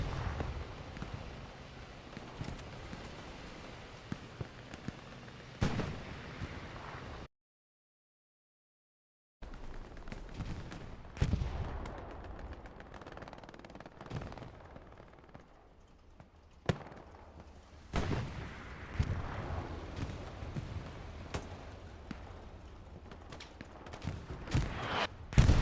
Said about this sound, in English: Artillery clears a good chunk there in Hockey Stick Trench